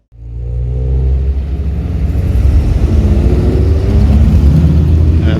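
Classic MGB sports car on the Castle Combe race circuit, approaching from quiet and building into a loud, close engine roar that rises in pitch as it accelerates past, rumbling and revving steadily for several seconds.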